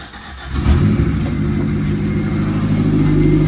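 A Honda engine with a newly installed turbo cranks and catches about half a second in, then settles into a loud, steady low rumble close by.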